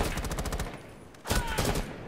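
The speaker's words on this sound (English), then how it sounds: "Oh, getting shot from the side." Rapid gunfire in the shooter video game Rainbow Six Siege, two dense bursts of automatic shots separated by a short pause, loud and close.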